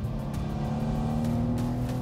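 A 2023 BMW M2 with a manual gearbox holds a loud, steady engine drone at constant revs, close up and without voices.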